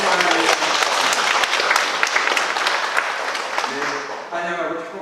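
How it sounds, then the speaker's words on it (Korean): Church congregation applauding in a Korean church service, a full, dense wash of clapping from many hands, loud and steady before tapering off at the end as a voice begins speaking. "네, 박수 한번 주시기 바랍니다."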